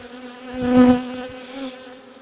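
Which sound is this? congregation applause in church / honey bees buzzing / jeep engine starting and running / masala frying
honey bees buzzing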